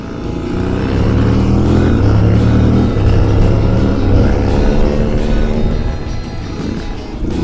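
Off-road trail motorcycles on a Maxi Trail ride accelerate hard, a loud, sustained engine roar with rising and falling revs, close and continuous throughout.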